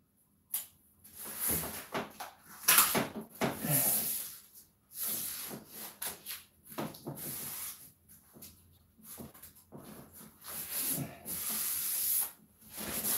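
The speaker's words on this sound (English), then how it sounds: "So we're gonna paint the entire wall." Paint is worked onto a wall being prepared as a 144-inch projection screen, with close, irregular rubbing and swishing strokes that come in bursts with short pauses between them.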